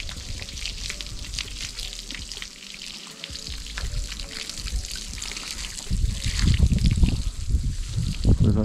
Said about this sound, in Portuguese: Jogar água direto no lombo que não faz mal.